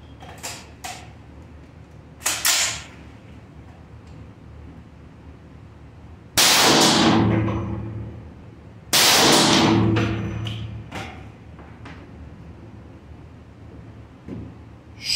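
300-grain .458 SOCOM rifle rounds fired at a steel armor plate from 10 feet: two loud sharp shots a few seconds apart, each with a ringing, decaying tail, plus smaller clicks and handling noises between.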